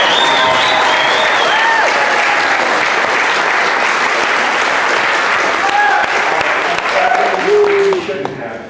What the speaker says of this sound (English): give me some more warm, spontaneous applause.